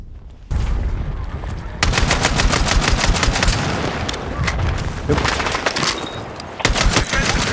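Rapid gunfire from Battlefield 6 multiplayer, loud bursts and automatic volleys that swell and continue almost nonstop, with a brief quieter lead-in before the shooting erupts.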